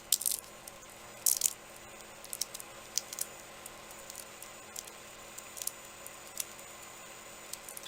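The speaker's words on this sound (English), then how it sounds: "And then I'm going to crumple it." Angelina film being crumpled by hand for a polymer clay project, giving quiet crackling and rustling with a few sharper crinkly bursts early on, close up and without talk.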